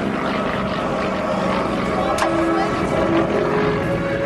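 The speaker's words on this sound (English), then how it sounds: "As he pulls the airplane around, starts to come back towards show center." A Yak-55M aerobatic plane flies at an airshow, its propeller engine a steady distant drone with a slight pitch shift as it turns back toward show center, heard under crowd and field ambience.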